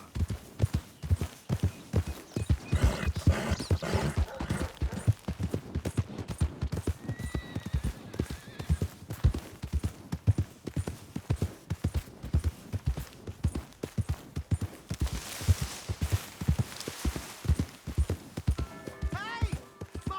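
Horse hooves clip-clop steadily and close by throughout the Red Dead Redemption 2 game scene, a continuous rhythmic gait with occasional whinny-like sounds and voices speaking over it.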